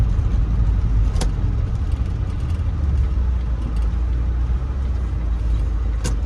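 A car rolls slowly over a red brick street in a Tampa neighbourhood while making a U-turn, giving a steady, rumbling road and engine noise throughout, with a couple of faint clicks and no one talking.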